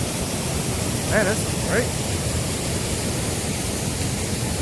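Big waterfall beside an old water mill in Pigeon Forge, a steady close hiss of rushing water that fills the whole clip while someone speaks briefly over it.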